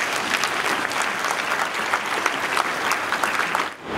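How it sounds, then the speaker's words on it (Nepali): Attendees at a church mission conference applaud together, producing a dense, even wash of clapping from a sizeable crowd that stays loud throughout before tapering off at the end. "ताली बजाइदिनुहोस्"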